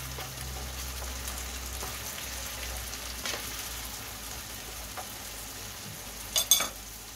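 Eggplant with tomato sauce and tomato paste stirred in a pan, a continuous soft sizzle and wet scraping throughout, with a brief clink near the end.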